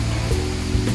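Rushing water at Kanto Lampo waterfall in Bali, a steady broadband roar of falling water heard close and loud throughout, with no voices.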